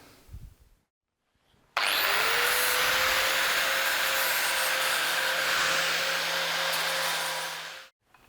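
An angle grinder fitted with a new disc grinding metal, spinning up sharply after a short pause and holding a loud, steady whine, then cutting off abruptly.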